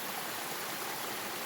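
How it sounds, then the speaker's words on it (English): A mountain stream on the Pacific Crest Trail rushes in a dense, steady wash of water noise, close and constant throughout, with no voices. "Coming up to a stream here that might interfere with the volume."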